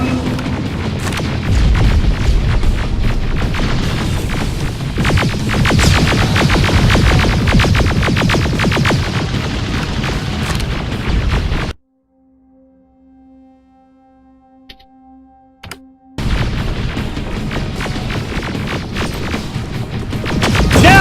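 Continuous loud gunfire and explosions roar in the video game Terminator: Resistance, dense and booming, cut by a few seconds of near silence with a faint tone before the barrage resumes at full intensity.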